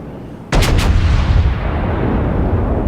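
Battleship North Carolina fires a naval gun salvo in World of Warships, a sudden loud boom with a couple of sharp cracks, then a long rumbling roar that slowly fades.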